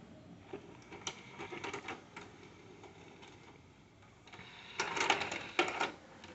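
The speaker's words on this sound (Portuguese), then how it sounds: "Aperta o botão de ejetar aqui" Philips VR757 VHS video cassette recorder ejecting a tape, a run of close mechanical clicks and clattering whirs that grow louder toward the end as the cassette comes out.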